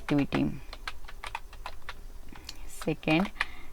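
Quick taps on a computer keyboard click close by in an irregular run, with a voice speaking over the start and the end.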